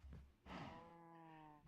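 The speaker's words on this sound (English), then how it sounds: "now we have a cow spawner, which is running amok" Blocky Minecraft cows moo from a cow spawner in the Tekkit Lite modpack, one clear close moo following a short grunt, faint overall.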